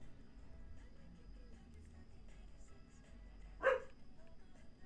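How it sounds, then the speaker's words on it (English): One short dog bark sounds from a little way off inside a house, a lone yip against a steady low background hum. "Puppy, what are you barking at?"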